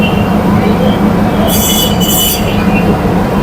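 A train at a station in Kazakhstan rumbles loudly and steadily, with metal wheels squealing sharply in the middle of the stretch over a constant low hum.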